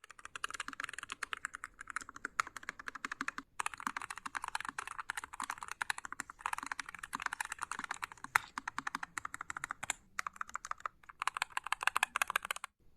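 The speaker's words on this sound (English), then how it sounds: "And now a quick typing sound test next." Fast typing on an Epomaker Carbon60 carbon-fiber wireless mechanical keyboard with dampened linear red switches, a quiet, close, continuous patter of soft keystrokes with brief pauses.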